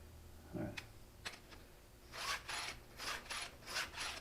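A STIHL 2-in-1 sharpener files the gullets of a chainsaw chain on a vintage Homelite Super XL, giving a few quiet scrapes and clicks and then a steady series of close, rhythmic rasping strokes.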